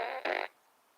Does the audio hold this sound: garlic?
no